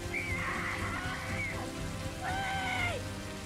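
Steady rain pours down through a dark night on open water in a live-action One Piece episode, a dense continuous hiss with faint tonal whistles rising above it.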